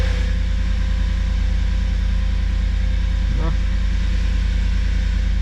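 Cold Audi A6 with a V8 FSI engine idling just after a cold start, a steady low hum with a faint tonal rise midway and a brief voice.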